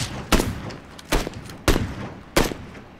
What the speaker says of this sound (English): I was just shooting.